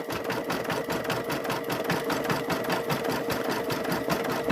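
An embroidery sewing machine stitches out a mug rug design, its rapid, even needle clatter running continuously up close with no speech over it.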